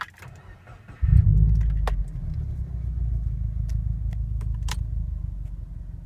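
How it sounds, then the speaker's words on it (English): A 2013 Subaru WRX engine starts with a brief crank and catches into a loud rumbling idle that settles slightly lower, with faint clicks and key jingles over it. "Start the car up."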